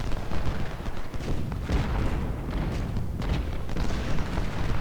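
Civil War artillery cannons fire in a strategy video game battle, heavy overlapping booms rumbling continuously with dense low thuds and no pause.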